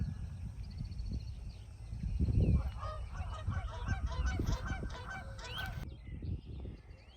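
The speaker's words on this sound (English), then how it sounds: "Be quiet, geese." Geese honk repeatedly outdoors, a flurry of loud nasal calls clustering in the middle before tapering off, over a low rumbling background.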